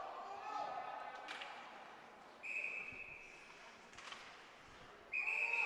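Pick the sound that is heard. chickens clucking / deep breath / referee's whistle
referee's whistle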